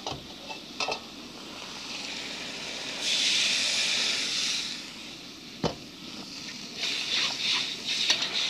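Water added to a hot clay pot hisses and sizzles, a steamy burst that swells for a couple of seconds and then settles into softer bubbling, with a few clinks of utensils.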